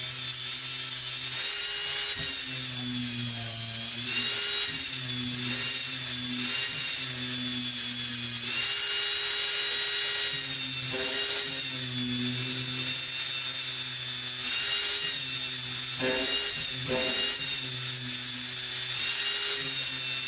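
A rotary tool fitted with a burr bit grinds steadily in an awkward spot, a loud continuous high whine with rough scraping and brief dips and surges as it bites, with no voices.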